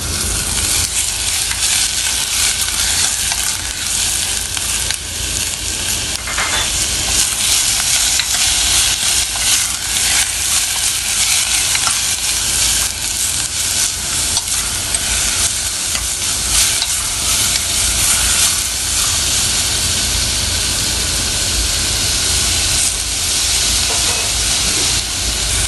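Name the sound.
beef sizzling while frying for kimchi stew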